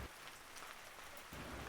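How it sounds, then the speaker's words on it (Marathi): Steady, dense rain falling, a continuous hiss of drops that swells louder near the end, with no voices. "पाऊस"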